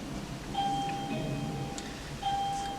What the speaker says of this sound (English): Doorbell just rang